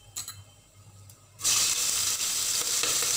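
Chilies dropped into hot, golden oil in a pan set off a sudden loud, bright sizzle that holds steady at close range after a quieter stretch of faint kitchen knocks.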